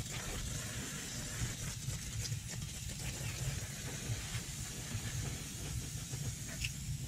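Aerosol brake cleaner sprayed onto car brake parts, a continuous close hiss running throughout over a low, steady background rumble.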